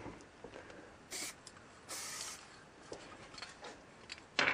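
Short bursts of spray hiss from a spray paint can with a high-pressure cap come in quick puffs over a faint background noise, with no speech.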